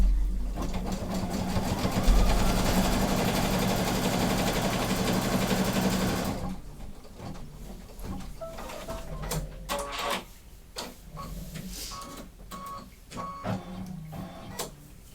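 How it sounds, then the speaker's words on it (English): Brother Luminaire embroidery machine stitching a tack down line, a fast close whirring buzz for about six seconds, then quieter intermittent clicks and small mechanical taps as it stops and starts again. "it's going to do that stitching line, or the tack down line"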